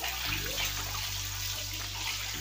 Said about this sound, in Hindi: सारे अंडे को हम इसमें डाल देंगे ऑयल में।